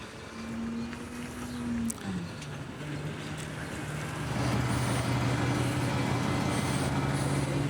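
A bus rolls up to a stop outside a station, its engine hum rising and shifting pitch as it approaches and idles nearby, with a brief hiss partway through and a steady low drone afterward.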